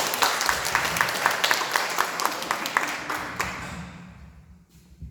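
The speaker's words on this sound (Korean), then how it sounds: "특별히 감사의 박수 한번 더 드리시죠." Church pastors' retreat audience breaks into steady applause, dense clapping sustained for several seconds before thinning out and fading away near the end.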